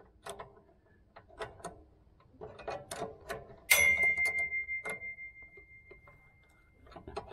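Close metal-on-metal clicks and ratcheting taps from a wrench working the parking brake adjuster nuts on a C3 Corvette, with a brief ringing metallic ping midway, irregular and fairly loud.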